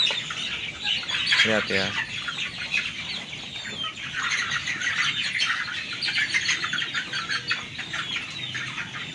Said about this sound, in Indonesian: lihat ayam-ayam saya pada lahap makannya ya